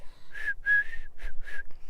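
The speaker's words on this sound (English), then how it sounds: "Can you whistle?" A person whistles a short melodic phrase of four or five clear, close notes, steady in pitch and alone, with no talk over it.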